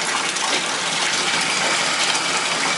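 Water gushing steadily from a bathroom faucet, a loud continuous splashing hiss close by with no pauses.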